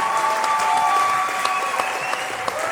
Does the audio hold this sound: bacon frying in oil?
no